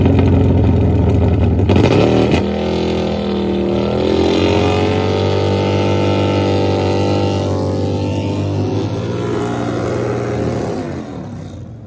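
Bagger motorcycles launch in a drag race at South Georgia Motorsports Park, giving a loud, sustained engine roar that holds high and strong throughout and eases off slightly near the end.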